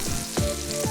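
Hot oil sizzles in a preheated pan on medium-high heat at the start of cooking sweet and sour pork, a steady close, fairly loud crackling hiss lasting about a second with no voices.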